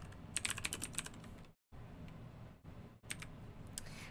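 Rapid tapping on a computer keyboard comes in bursts of quick keystrokes with brief pauses between them, close and moderately loud with no speech.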